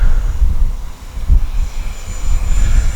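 An RC OV-10 model airplane flying at full speed into the wind, its engine droning steadily and loud and close throughout, swelling slightly as it passes, with wind buffeting underneath and no talk.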